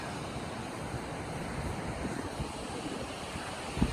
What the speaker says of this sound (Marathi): लाटा, समुद्राच्या लाटा या फार मोठ्या प्रमाणात येत आहेत.